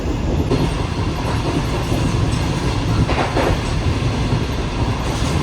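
The Shah Hussain Express runs at speed through the night past a station near Karachi, with a constant loud rumble, wheel clatter and a brief squeal heard from inside the coach.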